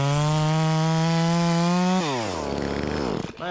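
A knock-off Echo 2511T chainsaw screams at high, steady revs up close for about two seconds, then its pitch sags and wavers as the engine drops off and bogs down, with no voices.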